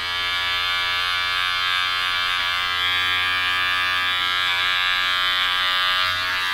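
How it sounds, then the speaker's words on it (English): Electric hair clippers buzz close and loud with a steady hum while trimming around the ears during a home haircut, the tone shifting slightly as the blade moves against hair. "Just using the very tip, the corner of the clipper, you go around in a circle."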